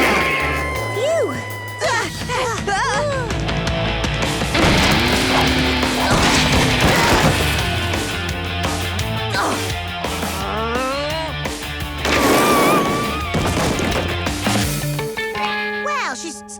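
A cartoon skateboard crash plays out in a dense, loud cartoon soundtrack, with smashing, thwacking and pops, springy boing effects, whistles and music. Characters exclaim and talk throughout the chaotic sequence.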